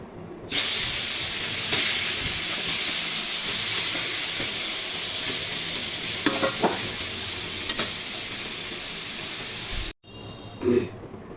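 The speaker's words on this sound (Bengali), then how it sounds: "তেল গরম হয়ে গেছে এখন মাংসগুলো ভেজে নিব" Chicken pieces fry in hot oil for a chicken do-pyaza, a loud, steady sizzling hiss with occasional stirring scrapes, cutting off abruptly near the end before a brief clatter.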